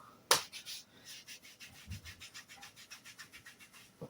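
A strip rubbed firmly onto a leg by hand, a sharp initial scrape followed by a quick, even series of soft rasping strokes, close and quiet, with no talking.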